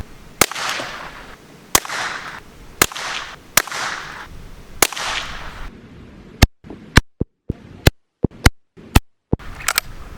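Savage Rascal rifle fired at about 10 yards in a barn during a rat-range test, giving about a dozen sharp, loud cracks spaced roughly a second apart, each followed by a short decay, with no talk over them.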